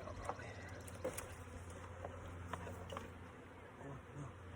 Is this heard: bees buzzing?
yes